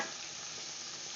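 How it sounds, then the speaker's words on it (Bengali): Beans and tomatoes hiss in a frying pan, a faint, steady sizzle with no voices. "এখন দিয়ে দেব শিম, এখন দিয়ে দিচ্ছি টমেটো"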